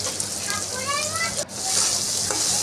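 Chopped onion and green chilli hit hot oil in a kadai, giving a steady close sizzle and hiss with a brief dip midway before frying resumes strongly.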